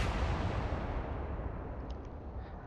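Naval gunfire in the Atlantic Fleet game: a loud, sustained, rumbling boom with deep low-end roar that slowly decays over a couple of seconds, heard alone.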